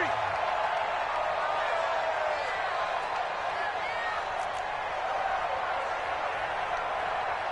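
A stadium crowd cheering during a big third down in a Chiefs football video game, a steady, broad roar of voices and applause that fills the whole stretch at moderate volume.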